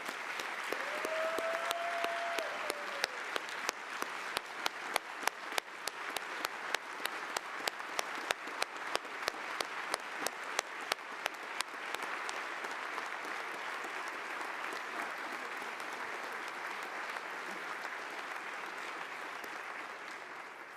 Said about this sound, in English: how about a round of applause for a true pioneer, Vice Admiral Walter